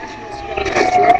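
Fire truck siren in GTA 4, wailing with a rising tone over a short burst, mixed with game engine noise and a voice talking over it.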